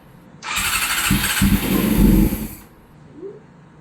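A barn-find Honda CBR600 motorcycle on full choke cranks with a hissing whir and sputters into a few rough, uneven firing bursts for about two seconds before dying out, close and loud, followed by a brief faint sound.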